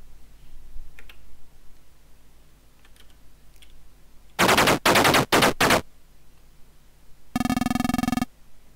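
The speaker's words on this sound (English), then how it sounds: "Let's fire the coax at that MG team again," A tank's coaxial machine gun fires in the tank-combat game Armoured Commander: several short, sharp bursts of rapid clattering in quick succession, then a later buzzing tone, over a low steady background hum.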